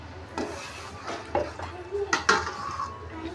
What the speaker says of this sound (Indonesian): Kita mix, kita aduk.